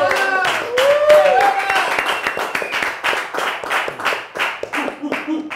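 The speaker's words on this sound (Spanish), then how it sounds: "Qué lindo, un aplauso para él." A television studio audience claps steadily and rhythmically. A voice briefly speaks over the opening seconds, and the applause carries on throughout at a lively, fairly loud level.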